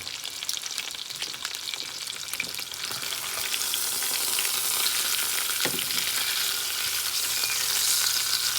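Salmon with asparagus frying in a pan, a close crackling sizzle that grows louder and denser midway and then holds steady, with no talking over it.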